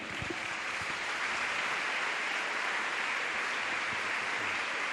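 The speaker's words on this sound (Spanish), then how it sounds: "Un aplauso para Dios." A church congregation applauds continuously, a dense steady wash of many hands clapping at even loudness throughout, with no clear voices standing out.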